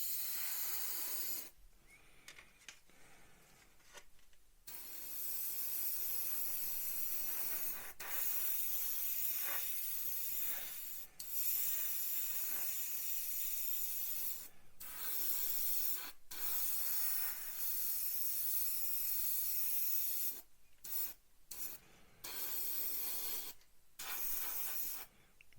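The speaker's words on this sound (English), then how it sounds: "spraying the floor first" An airbrush hisses in short and longer bursts as paint is sprayed onto the floor of a Revell PBY-5 Catalina scale model, soft and close with brief pauses between passes.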